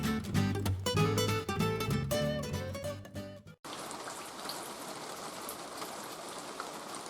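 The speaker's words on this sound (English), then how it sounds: "needless to say, it's raining." Steady rain falls on an allotment garden, a dense, even hiss of drops that continues without a break after some music cuts off abruptly.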